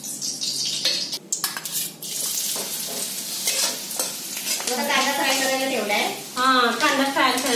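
Chopped onion frying in hot oil in a home kitchen wok, a steady sizzle with stirring and clinks of a spoon against the pan, while someone talks over it throughout.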